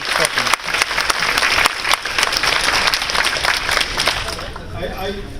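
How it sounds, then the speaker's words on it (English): Loud, sustained audience applause for a governor at a reentry conference, a crowd clapping hard before dying away as a voice starts talking. "Can we have a round of applause for our governor?"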